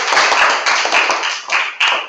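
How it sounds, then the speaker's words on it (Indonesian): Students in a classroom clap together in a loud, fairly rhythmic round of applause that ripples on for a couple of seconds, with hands striking close by and no talking. "Tepuk tangan semua."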